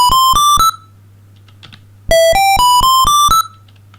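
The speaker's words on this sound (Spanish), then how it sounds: "Es una onda cuadrada de forma completa y que ocupa todo el espectro" Full square pulse wave synth tone from a SidWizard tracker on a C64-style chip: bright buzzy stepped notes in two quick bursts, three rising notes then a pause and six more, loud and clean with no talk.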